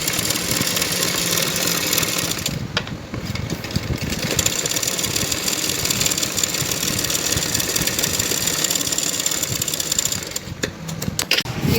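A sewing machine runs a continuous pressing stitch along a blouse belt, with a steady close mechanical whir and rattle. There are brief slight dips in the sound, and no talking.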